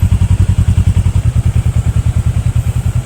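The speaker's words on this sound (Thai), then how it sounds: "เครื่องเดินรอบเดินเบาเงียบๆนิ่งๆนะครับผม" A 2013 Kawasaki Versys 650 twin-cylinder motorcycle idles close by, a loud, even, rapidly pulsing low exhaust thump that stays steady throughout.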